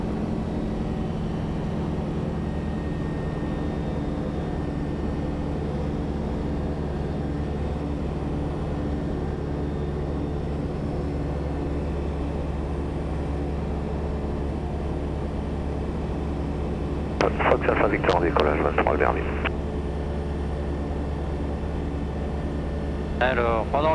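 An ultralight aircraft's engine drones steadily with a constant low hum during takeoff from Albertville, and brief radio or voice bursts come through near the end.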